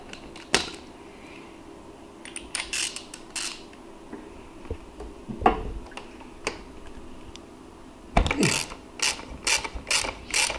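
A ratchet fitted with a T40 bit works on a seat bolt of a Triumph Bonneville Bobber motorcycle, giving short bursts of sharp clicking separated by quieter pauses, close up, with a longer rapid run of clicks near the end.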